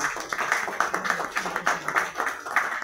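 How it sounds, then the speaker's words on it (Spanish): Steady applause from a crowd at a book presentation, a dense wash of many hands clapping at a moderate distance with no voices on top. "El señor Ivico Rojas, un fuerte aplauso también."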